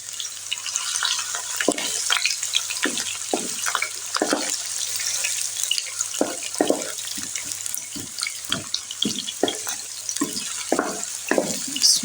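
Onions crackle and spit in nearly hot oil for dhaba-style aloo gobi. A continuous sizzle runs throughout, broken by frequent irregular pops and splatters at close range.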